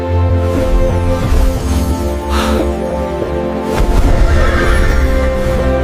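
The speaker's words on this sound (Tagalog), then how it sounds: "Kabayo?" A horse in a forest neighs loudly in a drawn-out whinny, then gives a second shorter call, over a dense, steady background of sustained tones.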